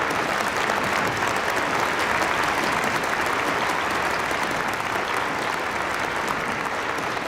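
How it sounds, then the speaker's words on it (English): A large audience gives a big round of applause at a church gathering, with loud, dense, continuous clapping and no speech. "Let us give another big round of applause to really thank our beloved"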